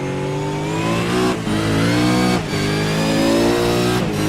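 A V8 race car engine revs hard and close during an overtake at Winton circuit, its harsh buzzing note climbing through several gear changes with brief dips between shifts, loud and continuous.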